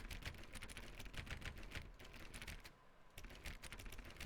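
Computer keyboard typing inside an office in The Stanley Parable: steady, rapid clicking of keys with a brief pause near the middle, close and fairly quiet, with no voices.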